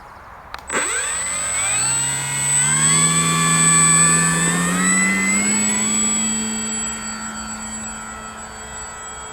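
A FMS PA-18 Super Cub model plane's electric motor spools up after a sharp click, rising to a steady loud whine with strong harmonics that holds near and then eases slightly toward the end, no voices.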